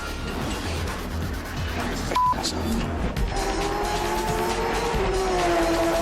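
A race car, a Porsche 911 GT3 RS, braking hard from around 140 to a stop, with tire squeal rising and engine noise under a loud continuous roar; no talk over it.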